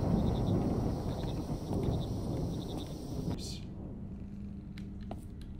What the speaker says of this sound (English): I can't go pet the cat?